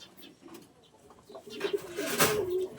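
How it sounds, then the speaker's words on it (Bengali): Female high-flying pigeon giving soft, low cooing calls close by, faint at first then swelling into a fuller coo with some rustling around it. "এটা মাদি কবুতার"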